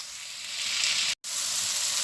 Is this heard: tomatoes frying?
yes